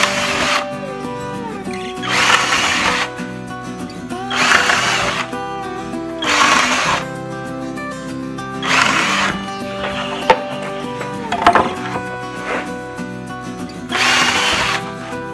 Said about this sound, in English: I'm gonna pre-drill them.